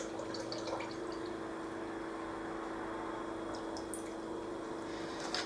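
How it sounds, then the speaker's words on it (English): Lye is poured into a soap-making mix in a bowl, a steady continuous liquid trickle with faint drips throughout, close and fairly quiet, with no talking. "So I'm going to add in my lye."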